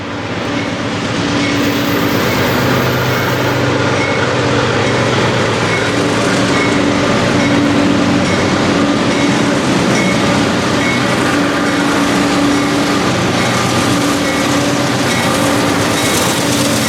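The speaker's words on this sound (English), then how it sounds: "a BNSF Heritage 1 locomotive had just departed Cherokee Yard, leading a train" A BNSF Heritage 1 locomotive leads a freight train departing Cherokee Yard in Tulsa, Oklahoma, producing a loud, steady engine drone with a continuous rumble of rolling railcars as the train passes close by.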